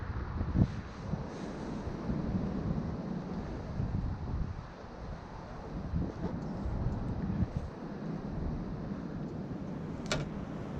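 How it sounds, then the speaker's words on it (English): Strong wind howls beside the River Avon during a fishing session. A steady, low, roaring buffet fills the whole stretch, with a few brief knocks near the microphone. "The wind is absolutely howling."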